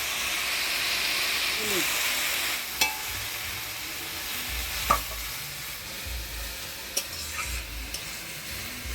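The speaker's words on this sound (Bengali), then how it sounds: "হলুদ লবণ দিয়ে শাকটা ভালো করে নাড়াচাড়া করে নিলাম" Greens and green chillies stirred and frying in a pan with salt and turmeric, Bengali village-style cooking: a steady soft sizzle with occasional spatula scrapes and clinks, close by.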